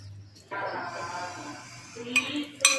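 Prawns coated with chili powder, turmeric and ginger paste are mixed in a bowl, giving soft squelching stirs followed by a couple of clinks of a utensil against the dish.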